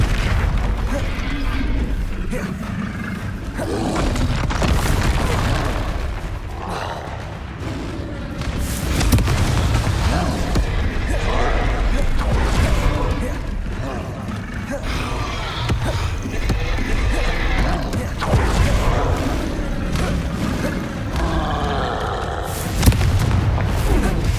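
Confringo blasting-spell explosions from the Hogwarts Legacy video game, heavy booms and bursts rolling through a loud, dense battle mix, with spoken spell incantations shouted over the action.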